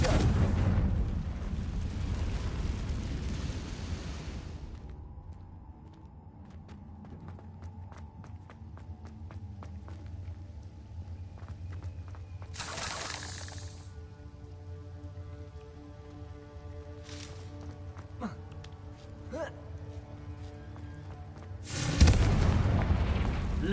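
Confringo blasting spells go off in the Hogwarts Legacy game: sharp bursts of blast noise arrive in separate clusters, with a loud crackling roar at the start, quieter ringing and hum between them, and a heavy burst near the end.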